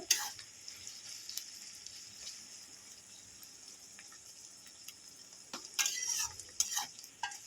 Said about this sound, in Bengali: এবারে আমি এই শুকনো মশলাগুলো সব দিয়ে দেব দিয়ে আর একটু ভেজে নেব মশলার গন্ধটা ছাড়া পর্যন্ত